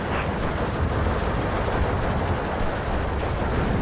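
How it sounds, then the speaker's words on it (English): Mortar barrages and gunfire in the Steel Division II wargame, set in a 1944 Soviet infantry assault. The battle noise is a dense, continuous rumble of shots and blasts that stays loud and steady throughout, with no talking. "let's get this thing pinned down with our mortar. I'll call in some more mortars now."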